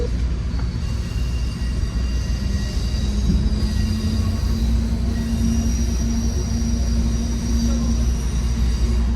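Trains rolling through a commuter rail station at St. Lambert, with steady loud rumble and wheel noise throughout and a sustained squeal, faint voices in the background.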